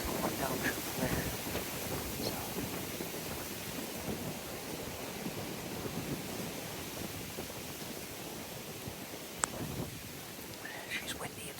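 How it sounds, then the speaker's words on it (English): Wind blows outdoors in snowy weather during a hunt, a steady, faint rushing hiss that buffets the microphone, with quiet murmured voices mixed in. "She's windy and snowing."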